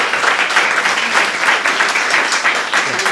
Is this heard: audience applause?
yes